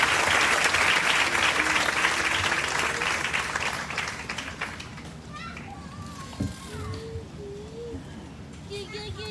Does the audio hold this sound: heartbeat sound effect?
no